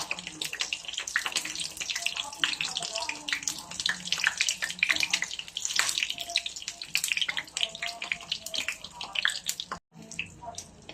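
Krispy Shanghai spring rolls sizzle in hot oil in a pan, a dense steady crackle up close with brief voice sounds over it and a short pause near the end.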